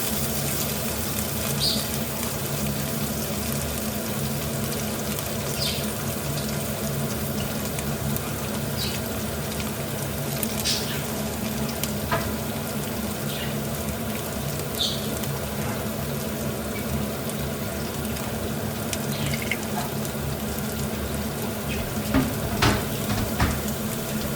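Garlic cloves frying in oil in a pan, a continuous moderate sizzle with scattered crackles and occasional stirring clinks, no voice over it.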